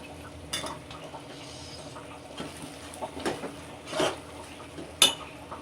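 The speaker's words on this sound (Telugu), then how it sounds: "ఇప్పుడు ఇందులో ఒకటి పెద్ద సైజు ఆనియన్ వేసుకుందాం" A large onion tipped into a pan of hot oil for kadai paneer, stirred with a few scattered clinks and scrapes of a utensil against metal over a low steady background, the louder knocks coming near the end.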